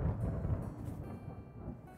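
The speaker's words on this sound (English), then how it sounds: "It's a thunderstorm." Low rolling thunder from a thunderstorm in the farming video game Harvest Island, a steady rumble with no voices.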